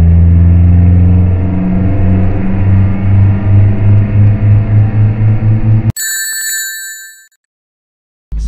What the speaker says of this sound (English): I want to show the difference in high RPM acceleration running full advance versus no advance